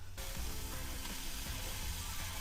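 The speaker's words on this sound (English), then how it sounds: "Now it's sizzling." Food frying in a hot pan gives a loud, continuous sizzle that starts abruptly and holds steady with crackling spits throughout, with no talking.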